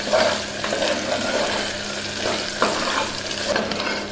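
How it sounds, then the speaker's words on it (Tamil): Ginger garlic paste sautéing with onions in a pan, a steady sizzle and fry with occasional scraping stirs, close and continuous, no talk. "இஞ்சி பூண்டோட பச்சை வாசம் போகிற அளவுக்கு நல்லா வதக்கிக்கோங்க."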